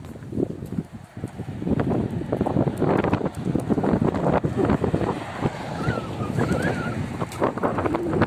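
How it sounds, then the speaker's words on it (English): Strong wind in Benidorm buffets the microphone on a walking tour, a loud continuous roar and rumble that gusts throughout, with no voices. "There's a lot of wind here in Benidorm today."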